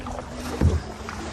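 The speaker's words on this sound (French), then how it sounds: "5 minutes que je pagaie et j'ai déjà mal" Paddling a canoe or kayak on a river, a single stronger water stroke or splash landing midway amid steady low rumble of wind and water.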